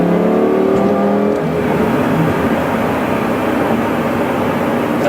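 A Lamborghini Gallardo e-Gear engine roars loud and close from inside the car, its revving pitch shifting as it downshifts to third, then holding a steady, dense growl.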